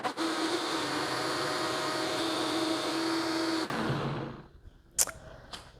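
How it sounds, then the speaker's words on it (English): A Vitamix blender blends a green smoothie with spinach, a loud, steady whirring roar close by that cuts off near the end. A couple of sharp knocks follow in the quiet. "I'm just going to go ahead and pulse this, and I will make the sound go down because I hate loud blenders."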